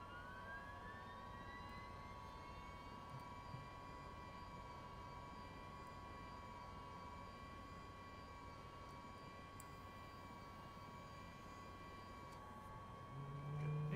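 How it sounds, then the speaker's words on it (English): An MV-22 Osprey's left engine spools up, a faint steady turbine whine with rising tonal hums that holds evenly and swells slightly louder at the very end. "Bring up the left engine."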